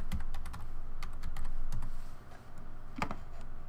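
A password being typed on a computer keyboard: rapid, close clicking keystrokes in irregular bursts, with a heavier key press near the end.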